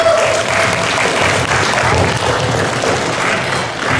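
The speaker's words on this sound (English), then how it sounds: "All right, everyone give a hand for our Apocalypse Ponies." Sustained dense clapping from a convention audience at BronyCon, applauding an improv team on stage; steady, loud and continuous throughout with no talk over it.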